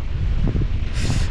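Strong, cold wind buffets an outdoor spot at night, a loud, rumbling roar with gusty rustling that swells briefly toward the end.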